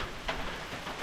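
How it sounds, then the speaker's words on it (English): Steady rain pouring down over a gravel parking lot at a state park, a dense, continuous hiss of drops with no voices, moderately loud and even throughout. "it is raining pretty good"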